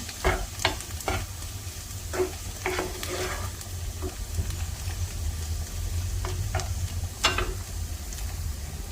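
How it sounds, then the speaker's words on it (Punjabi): Rajma (kidney bean) curry simmers in a pan with a steady low bubbling and sizzling bed, broken by several sharp spoon scrapes and stirs against the pan, with no talk. "ਸਬਜ਼ੀ ਮੇਰੀ ਰਿੱਝ ਰਹੀ ਹੈ"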